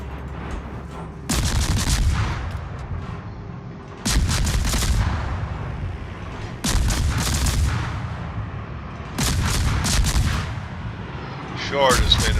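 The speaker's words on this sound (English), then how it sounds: "Concentrate fire on the enemy warship." Naval artillery booms out in World of Warships, four heavy salvos spaced a few seconds apart, each a loud broadband blast with a rumbling tail, ending in a sharper crackling burst.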